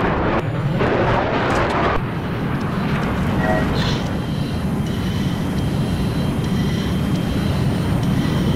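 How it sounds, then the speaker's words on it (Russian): An enemy jet roars past in a Battlefield match, a loud, broad rushing engine sound that sweeps through amid dense battle noise and a radio-style voice. "Обнаружен вражеский джет!"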